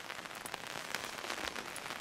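Rain falling outdoors in a wooded field during a beagle hunt in January, a soft, steady patter of drops with occasional sharper ticks, faint and continuous, no voices.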